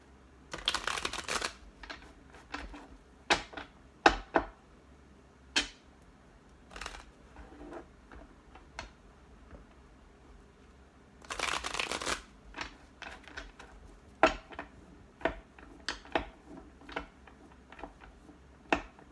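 A deck of tarot cards shuffled by hand, two long riffling bursts separated by many sharp individual slaps and snaps of cards, close and crisp with quiet gaps between.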